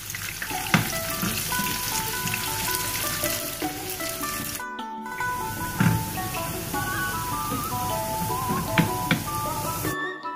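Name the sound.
onions frying in cooking oil in a frying pan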